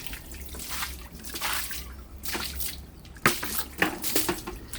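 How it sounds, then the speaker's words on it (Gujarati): Water from a bucket splashes onto a car being washed, coming in uneven gushes and drips nearby, with a few sharper splashes toward the end and no talking. "અહીંયા ગાડી પાણી નાખીને સાવણો મારવાનો છે"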